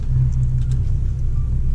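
Audi RS Q3 held on the brake in launch control, its engine revving to a steady, loud low drone with a constant rumble throughout, no talk over it.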